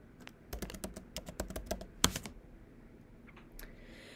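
Brisk typing on a computer keyboard during a grade 4 grammar lesson, a run of sharp, close keystrokes in quick irregular rhythm, one louder tap near the middle, then fading to a few soft clicks.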